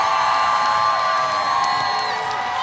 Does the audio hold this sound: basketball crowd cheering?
yes